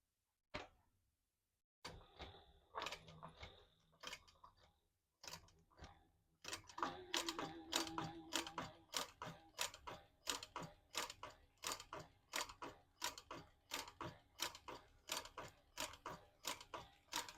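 A sewing machine stitches a thick black leather pouch. A few separate mechanical clunks come first, then a fast steady run of rhythmic needle thumps and ticks that continues close up to the end.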